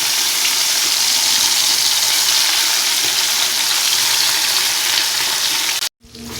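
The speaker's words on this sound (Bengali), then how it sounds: "তারপরে আমি সেই গরম তেলে মাছগুলো ভেজে নিচ্ছি এক এক করে" Ring-shaped rohu fish pieces fry in hot oil on a gas stove, giving a loud, dense, continuous sizzle close up that cuts out abruptly near the end and then resumes.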